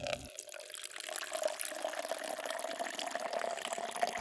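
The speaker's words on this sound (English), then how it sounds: "I'm filling a bucket with soapy water." Tap water runs into a bucket being filled with soapy water during house cleaning, a steady, fairly quiet splashing hiss that starts abruptly and continues evenly.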